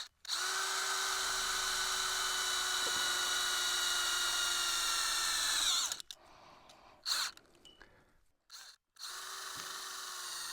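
A power drill drives self-tapping screws straight into old gas pipe for a pig fence, with no pre-drilling: one long steady whine that drops in pitch as the screw seats, then short bursts and another steady run.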